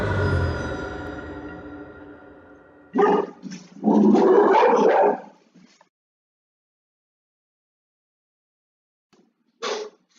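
Dogs bark in a close burst of several loud, overlapping barks after a fading tone, then go quiet before one more short bark near the end.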